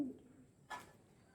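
A single soft pigeon coo sounds briefly and faintly from stock breeding pigeons, a short low murmur over quiet background hiss.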